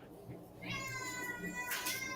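A cat lets out a drawn-out, whiny meow, close and fairly soft, over quiet room background.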